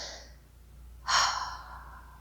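A single deep breath, drawn in audibly and close to the listener, a soft airy inhale that swells then trails off into a quiet exhale against near silence.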